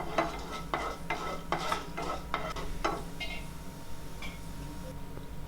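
Urad dal roasting in hot oil for a garlic-tomato kara chutney, stirred with a spoon: about seven rhythmic scraping strokes against the pan over a faint, steady sizzle, close by, with no voices.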